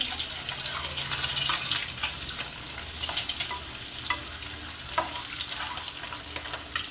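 Egg curry masala with coriander powder, red chili powder and salt fries in a pan, a steady sizzle broken by scattered spoon scrapes and taps as it is stirred.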